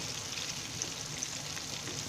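Chicken pieces frying in oil in a pan, a soft continuous sizzle heard up close, with no talking over it.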